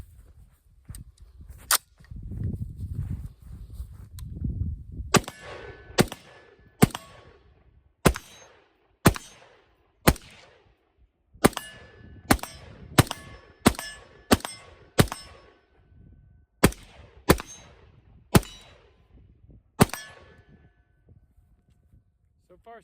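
A rifle fires a magazine of mixed .223/5.56 ammunition outdoors, a dozen or more sharp, loud reports spaced roughly a second apart, each followed by a brief ringing tail, after a stretch of low handling noise.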